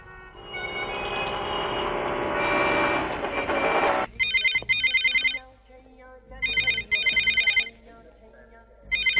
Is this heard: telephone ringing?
yes